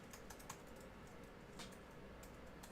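Rapid, light clicking of a computer keyboard being typed on during an online Super Smash Bros. Melee coaching session, steady and faint throughout with scattered sharper keystrokes.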